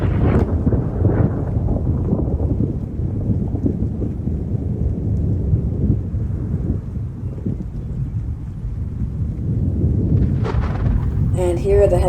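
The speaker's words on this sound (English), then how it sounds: "Here are the thunder and the rain sounds from Twisted I've collected." Deep rolling thunder rumbles continuously beneath steady rain in the Roblox storm game Twisted, loud and booming throughout, with a sharper crack near the end.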